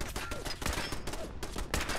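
Rapid bursts of gunfire from the video game Fallout 4, loud volleys of repeated shots filling the whole stretch with no talking.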